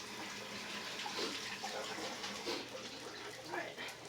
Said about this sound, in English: And I gotta wash my hands really quick.